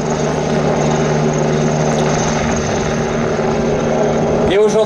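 Eurocopter EC665 Tigre military attack helicopter at an airshow, loud and steady close rotor and turbine roar with a constant hum, ending in a sudden brief change of tone.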